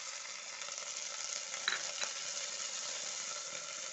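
Peeled garlic sizzles with onions in a pan, a steady, faint hiss of frying with a couple of light stirring scrapes.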